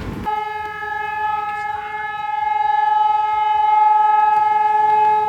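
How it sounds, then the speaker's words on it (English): A loud, steady siren drones with a sustained wailing pitch, rising slightly in intensity, with faint rumbling underneath and no voices. "That noise just started. It's like an air raid siren."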